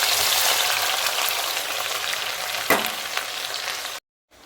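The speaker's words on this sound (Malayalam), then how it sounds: "കടുക് പൊട്ടിക്കഴിഞ്ഞ് കഴിഞ്ഞ് നമ്മൾ അരിഞ്ഞ് വെച്ചിരിക്കുന്ന വെളുത്തുള്ളിയും ഇഞ്ചിയും കൂടി ഇട്ട്" Chopped garlic and ginger frying in hot oil with mustard seeds, a loud, steady, dense sizzle that runs continuously before cutting off abruptly near the end.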